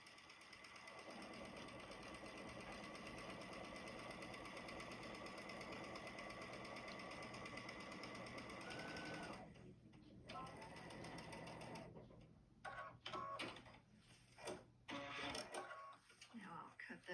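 A domestic sewing machine runs fast and steady, stitching a quilt block seam with pins pushed back clear of the needle, then stops; a few short bursts of stitching follow with pauses between.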